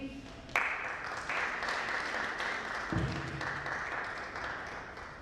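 An audience at a gathering gives another round of applause for a woman named Alice after her testimony, a sustained clapping wash that swells suddenly and runs on steadily, with a brief low murmur or voice partway through.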